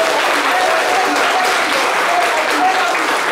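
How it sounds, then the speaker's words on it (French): A lively crowd at a sports association claps loudly for the team captain in his number 10 jersey, thick continuous applause with faint voices mixed in. "Applaudissez le capi."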